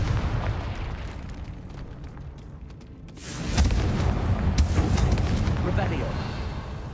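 Confringo fire spell in Hogwarts Legacy, landing as a loud, sustained burst of explosive crackle and rumble midway through, after a quieter stretch of in-game ambience.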